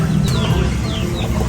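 Chickens cluck steadily at close range, with a few higher-pitched chirps breaking through over a constant farmyard din.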